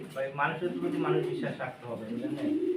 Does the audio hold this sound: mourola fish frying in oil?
no